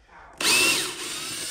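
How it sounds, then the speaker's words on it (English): After a short quiet lead-in, a power drill kicks in loudly and close while backing screws out of a stair lift plate set in wooden stairs, whirring briefly and then settling into a steady run. "just use a power drill or a screwdriver"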